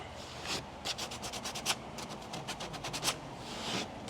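Finer grit sandpaper is worked over a kayak hull, making close, steady rubbing and scratchy back-and-forth strokes with a few sharper scuffs along the way.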